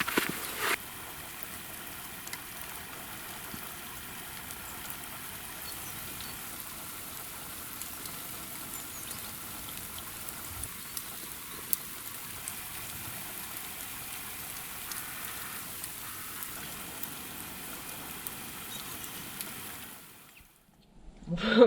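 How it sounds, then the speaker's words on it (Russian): Steady rain mixed with snow patters down in a continuous soft hiss, with a few louder drips, before it suddenly cuts off near the end. "А сегодня дождь со снегом это дождь."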